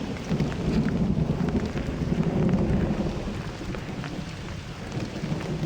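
Thunder rolls through a heavy afternoon downpour, the loud steady rain swelling with deep rumbling in the middle before easing slightly, no voices.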